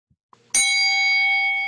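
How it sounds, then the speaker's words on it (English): A single bright bell strike opens a Rotary meeting, ringing out sharply after a couple of faint taps and sustaining a clear, shimmering tone that slowly decays. "Did we ring the bell?"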